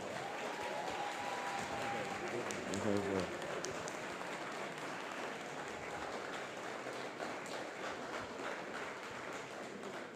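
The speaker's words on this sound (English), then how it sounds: "So can y'all please join me and give Kelson a huge round of applause." Audience at a literacy gala clapping and cheering in a steady, loud wave of applause that lasts throughout, with crowd noise and brief voices mixed in.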